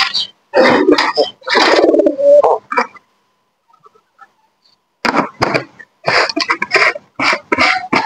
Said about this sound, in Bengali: দেখেন আমার এই কবুতরটা আমার সাথে কি দুষ্টাইম করে, আমাকে ঠোকরাচ্ছে